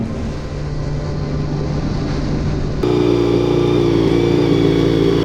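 Honda VFR400 motorcycle engine on carburettors runs steadily up close, a continuous loud mechanical drone that steps up to a higher, busier pitch partway through as revs rise; no one speaks.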